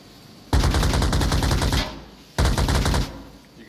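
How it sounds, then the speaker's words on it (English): Two long bursts of rapid automatic gunfire in the shooter game Onward, close and loud with a short gap between, alongside an M203 frag grenade launcher in a team match. "Gun Grip's M203 frag misses Karawadashima."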